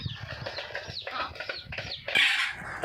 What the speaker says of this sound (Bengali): এখানে দুইটা মুরগি আছে আর অন্যদিকেও আছে সব ঝাপাঝাপি করছে